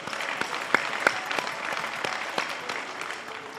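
An audience at a university ceremony in Dakar applauds with moderate, steady clapping, individual sharp claps standing out from the dense patter throughout.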